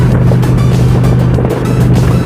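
Steady loud drone of an Indian Challenger motorcycle being ridden through the Texas Hill Country, a strong low engine hum with wind rush over the top, constant and unbroken.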